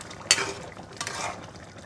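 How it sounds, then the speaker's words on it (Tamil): Chicken gravy being stirred in a pan: a sharp scrape and clink of the spoon, then a second scraping stroke, with soft bubbling in between and no voices. "அதனால் அடிக்கடி கிளறி விடணும்"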